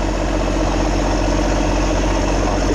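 A steel boat's engine idling in a canal at Tri Ton, An Giang, a steady low droning rumble with continuous vibration and no pauses, loud and close throughout.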